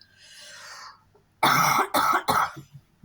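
Three loud, close coughs in quick succession, preceded by a faint breathy rustle and followed by a brief throaty catch.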